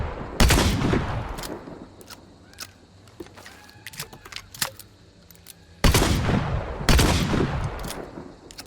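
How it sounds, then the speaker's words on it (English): A rifle loaded with slug ammunition firing in a shooter game. Two loud, booming shots ring out, each with a long tail, and light clicks and clinks of handling fall between them. "this is how the rifle, for example, sounds now with slugs"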